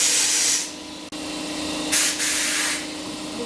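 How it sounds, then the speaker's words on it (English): An air compressor runs in a home shop while an engine short block is being prepped, giving a steady close hiss and rumble, with two louder sprays of air cutting in and out and no talking. "you can hear my compressor."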